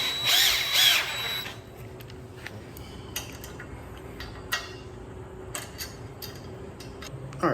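A power drill whirs loudly for about a second while driving a screw into a DeWalt portable miter saw stand, followed by scattered small ticks and clicks of handling parts nearby.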